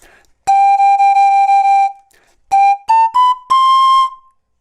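Clear, pure pan flute notes: one long steady held tone, then a brief pause and a short series of separate notes stepping upward, ending on a longer sustained note.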